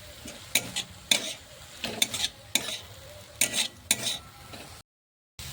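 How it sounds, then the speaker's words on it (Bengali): Potatoes and carrots with chili powder and roasted cumin-coriander powder stirred in a frying pan, a soft steady sizzle broken by a run of sharp spoon scrapes against the pan, close by, ending in a brief dropout. "তারপরে এটাকে ভালো করে মিক্স করে নেব"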